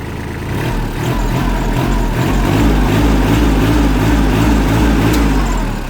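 A Kubota L2605 tractor engine runs close by, a steady, loud, low diesel chugging with a regular pulsing rhythm that holds throughout without speech.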